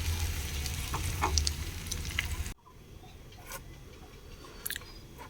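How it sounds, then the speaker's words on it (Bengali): Eggs sizzling in mustard oil in a pan, a dense crackling fry with a few stirring scrapes that drops abruptly to a quieter, fainter sizzle halfway through. "ডিমগুলো ভালো করে ভাজা হয়ে গেছে।"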